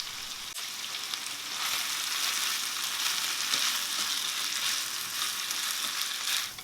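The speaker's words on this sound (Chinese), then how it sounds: "快速的翻炒一下就可以关火了" Bell peppers tossed quickly in a hot wok while making Sam's Club-style cheese beef rolls, giving a steady, close sizzling fry with stirring scrapes that swell after a short opening and hold loud to the end, with no talk.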